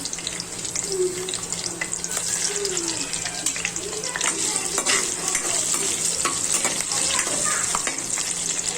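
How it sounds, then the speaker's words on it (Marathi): Capsicum fries in oil with a continuous close sizzle, while a spatula stirs and scrapes against the pan and faint background sounds sit underneath. "थोडीशी शिमला मिरची आहे ना तळून घेऊया"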